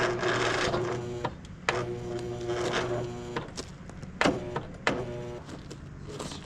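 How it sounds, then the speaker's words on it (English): A lawn tractor's starter motor grinds and labours against an engine overfilled with oil, a droning whir broken by several abrupt clunks and restarts, close-up and steady for several seconds. "starter doesn't want to turn the engine over."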